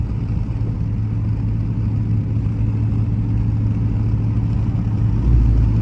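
Steady low engine drone from a Dodge Charger R/T cruising in eco mode at night, heard from inside the car, a continuous mid-level rumble that swells slightly louder near the end, with no talking.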